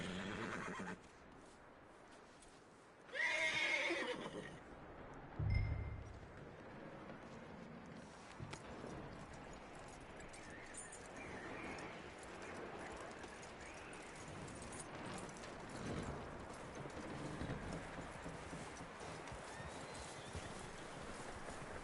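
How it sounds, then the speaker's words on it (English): Horse in the video game Red Dead Redemption 2 gives a loud whinny, followed by a snort and a soft, steady clip-clop of hooves under wind noise. "That looks like a decent horse."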